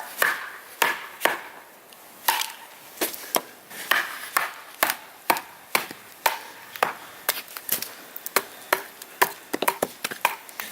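Knife batoning through frozen, slightly moist wood outdoors in cold weather, a TFK T17 blade struck with a baton: a steady series of sharp, close, loud cracking chops repeating roughly every half second.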